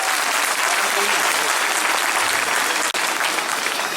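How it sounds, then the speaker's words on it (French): Crowd at a gathering applauding themselves, a loud, sustained roar of many hands clapping without a break, close and filling the space. "Applaudissez pour vous-même."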